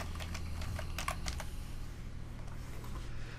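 Short burst of quick key taps on a computer keyboard, a handful of close, light clicks typing a name, then stopping, over a steady low hum.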